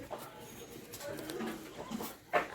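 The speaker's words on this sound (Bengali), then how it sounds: "এটা পায়রা দেখো" Desi pigeons coo softly in a loft at 58 Gate, Howrah, with faint, low calls sounding in the background while people talk nearby.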